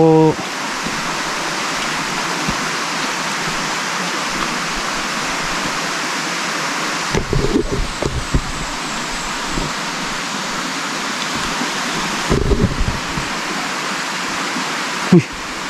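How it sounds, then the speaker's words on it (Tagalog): Steady rushing water fills a mountain forest, a constant roar like a stream or waterfall, with a few brief knocks and faint voices. "maliban lang dun sa tunog ng tubig pala yun"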